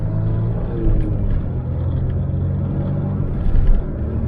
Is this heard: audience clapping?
no